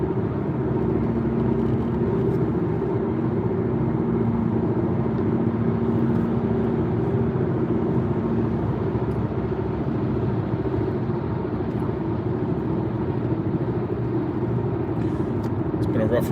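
Car driving on the road during a morning commute, a constant low engine and road rumble heard from inside the cabin, steady throughout.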